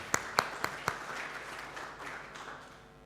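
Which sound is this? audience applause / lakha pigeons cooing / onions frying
audience applause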